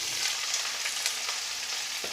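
Pieces of boiled cauliflower hitting hot white oil for a Bengali korma, giving a steady hissing fry with a few faint crackles and a light knock near the end, no voices.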